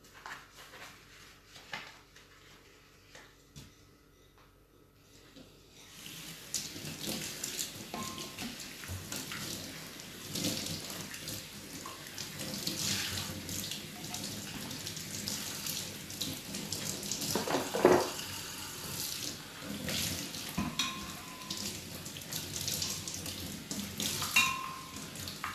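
Hot water running from a kitchen tap into a sink, starting after a few quiet seconds and then flowing steadily with splashing and some clatter of dishes or utensils.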